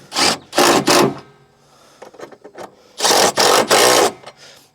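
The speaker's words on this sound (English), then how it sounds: "I know you see me tightening up a lot of these fasteners with an impact" An impact wrench tightens transmission mount bolts on a 2007 Ford Edge 3.5L: two loud buzzing bursts, a pause with faint clattering, then three more close rattling bursts in quick succession.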